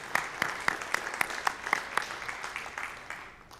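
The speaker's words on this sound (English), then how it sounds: "Yes, give them a round of applause." Brief round of applause from an audience at a high school scholarship and awards ceremony, a few sharp, prominent claps over a softer spread of clapping that fades out within a few seconds.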